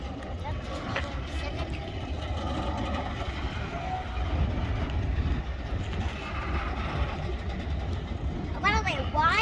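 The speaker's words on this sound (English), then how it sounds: "Nice and shiny Ferromex and CN auto racks." A BNSF mixed freight train with shiny Ferromex, CN and CP auto rack cars rolls past a crossing, a continuous low rumble and rattle of wagons, with a voice talking over it and a squealing whine at the end.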